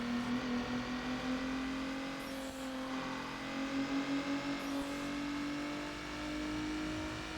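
Cars in the racing video game NFS Underground drone along with a steady engine whine, revving and shifting pitch as they drive, with brief swooshes of other cars passing, all heard alone without talk.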